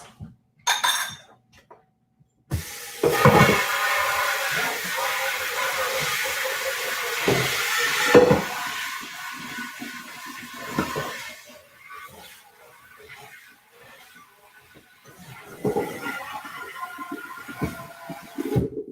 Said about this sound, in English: rinse your pot off or get a new pot